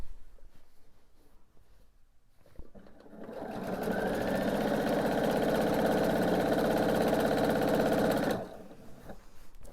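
A sewing machine stitches binding onto a quilt, starting after a quiet moment and then running steadily with a fast, even whirring rattle for about five seconds before stopping abruptly, no voices.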